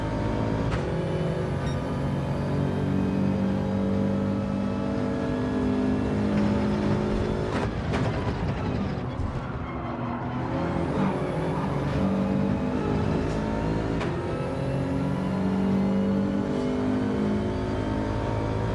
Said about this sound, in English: Maybe just with engine noise.